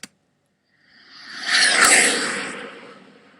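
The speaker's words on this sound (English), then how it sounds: "Like the jet flyby is 8 seconds" A jet flyby sound effect from iMovie's built-in library: a broadband rushing roar swells in after near silence, peaks loudly around the middle, then fades away gradually with no voices.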